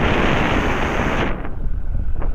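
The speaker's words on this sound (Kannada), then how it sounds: "ತಣ್ಣು ಗಾಳಿ ಹೊಡಿತೈತೆ" Cold wind gusts roar loudly across the microphone in Bandipur forest, steady at first and then dropping to choppier, uneven buffeting.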